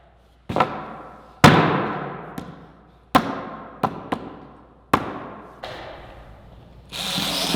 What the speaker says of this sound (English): So the screws that I'm putting in are just to make it so the whole thing stays rigid together